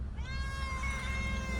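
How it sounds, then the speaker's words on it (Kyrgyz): A cat meows once in a long, drawn-out, wavering call, close and clear against a steady low hum, heard near a 2019 Spark car in Korea. "мышык келип алды."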